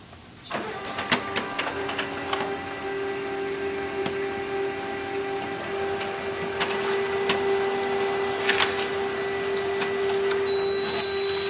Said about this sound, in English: So let's print a document.